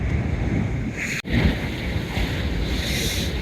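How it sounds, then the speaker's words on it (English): Sea waves sloshing near a sailboat at sea on calmer water, a steady close wash of surf mixed with wind buffeting the microphone, one brief dropout partway through. "the sea certainly has calmed off a bit"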